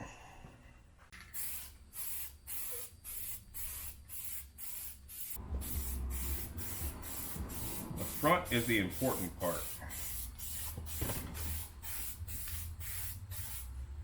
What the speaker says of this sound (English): So let me go ahead and spray some of this on there